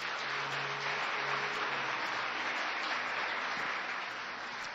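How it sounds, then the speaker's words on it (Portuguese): A church congregation clapping together, a dense, even wash of applause sustained throughout at moderate distance, with a faint low musical hum beneath. "Dá uma salva de palmas para o Senhor."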